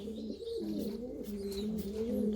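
A Tepeli Miro pigeon gives a soft, continuous throaty cooing, low and close, with a faint rolling warble that runs without a break and no other sounds around it.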